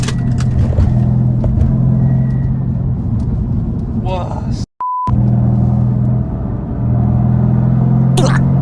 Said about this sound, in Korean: R8 다운치는 소리가 예술입니다.